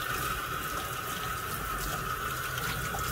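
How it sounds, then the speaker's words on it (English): Hot tap water runs steadily into a sink while acid-etched crystalline glazed pottery is rinsed under it, a constant close splashing wash with no voices. "I like to rinse these with hot water"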